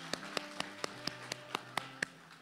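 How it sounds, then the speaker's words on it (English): A small group claps for graduates at an online graduation, about ten sharp evenly spaced claps, faint and close, with a low steady hum underneath. "I think we should give them a round of applause."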